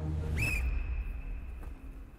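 A single sharp whistle blast serves as a signal, with a rising onset and then a thin sustained tone trailing off, close by over a noisy room.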